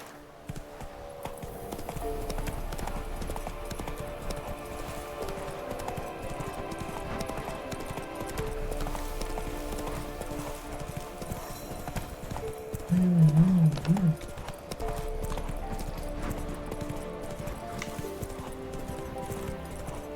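A horse gallops in the video game The Witcher 3 with steady, rhythmic hoofbeats and a brief louder burst partway through. A voice is heard faintly in the background.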